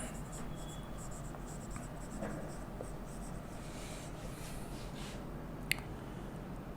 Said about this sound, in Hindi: तो पहले मैं आपकी सुविधा के लिए उसको लिख दे रहा हूं